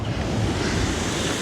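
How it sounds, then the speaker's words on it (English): Ocean surf pounds steadily at the Alofaaga Blowholes on Savai'i, a dense, loud roar of waves with wind buffeting the microphone and no voices. "But look at the blowholes."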